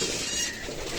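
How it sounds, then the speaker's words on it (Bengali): Racing pigeons, female birds in a loft, coo softly and close by in a short burst of throaty, murmuring calls with no talking. "দেখতে পাচ্ছেন কবুতরগুলো খুবই অ্যাক্টিভ"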